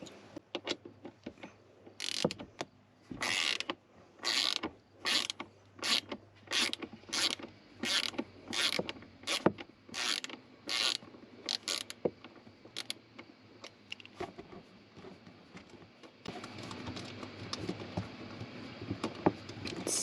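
An electric ratchet removes small bolts from a Ford Bronco panel, sounding as a long run of sharp, rapid mechanical bursts of whirring and clicking, close and fairly loud, with short pauses between pulls and a steadier whirring stretch near the end.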